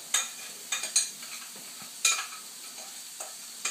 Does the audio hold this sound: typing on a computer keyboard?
no